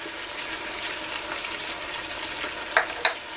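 Diced onions and garlic frying in a pan, with a steady broadband sizzle throughout and two brief sharper clicks near the end, no voices.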